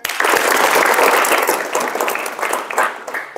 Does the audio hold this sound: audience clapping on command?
yes